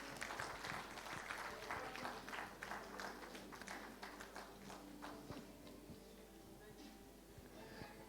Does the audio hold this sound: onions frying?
no